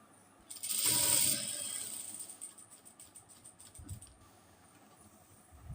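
A domestic sewing machine stitches a nighty frock, a close mechanical whir starting loudly then settling into a steady, softer running rattle with a few faint knocks, no talking.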